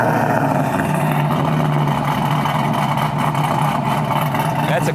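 A 2002 Pontiac Trans Am WS6 V8 rumbles with a deep, steady throaty exhaust drone, loud and close, holding a constant low tone throughout.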